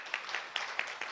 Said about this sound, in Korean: 격려하는 의미에서 다시 큰 박수 좀 부탁드리고요.